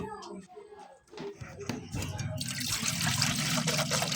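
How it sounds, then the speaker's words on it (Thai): Water poured into a pot for boiling eggs, a close, steady splashing trickle that builds after someone speaks at the start and continues on its own. "ใส่น้ำพี่น้องเนาะเราสิต้มไข่"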